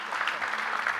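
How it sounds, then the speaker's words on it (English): Audience clapping at a panel session on investment in Georgia, a steady short burst of applause from a moderately distant crowd with no voices. "Please, a big round of applause"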